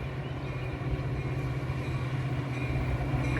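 A train pulls into a station with a steady, close rumble and rolling rail noise that holds throughout, without any horn or voices.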